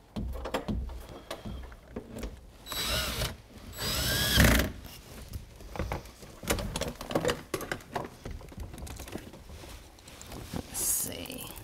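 A power drill drives screws into cabinet hardware in short, whirring bursts separated by pauses and handling clatter, while a person talks in between.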